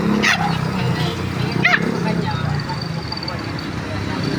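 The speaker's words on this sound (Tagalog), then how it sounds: "Ang tapang tong alaga kong aso." A couple of sharp dog barks ring out over steady background noise and low chatter, one early and another a moment later.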